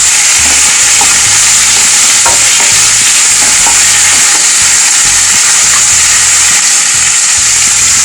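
Food fries in a pan over medium heat for a Bengali matar paneer, a loud continuous sizzle with occasional stirring scrapes and crackles throughout.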